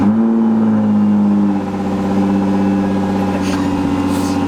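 An Audi RS4 engine revving, a strong steady tonal drone that drops slightly then holds a lower pulsing note, close and loud with no one speaking.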